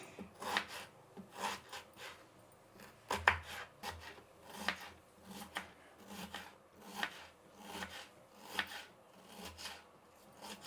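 A knife finely chopping a large red onion on a board, with steady rasping strokes and sharper knocks in an irregular rhythm, heard close and fairly quiet.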